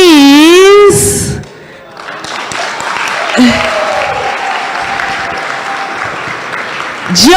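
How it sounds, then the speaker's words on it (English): An audience at a health care awards ceremony applauds an announced winner, broad sustained clapping that follows a sliding musical sting and runs on under other sounds before another tonal swell at the close. "A big round of applause."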